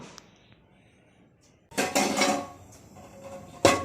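Washed steel dishes and pots being set aside in a home kitchen, a burst of clattering and clinking metal after a quiet stretch, then another loud clank near the end.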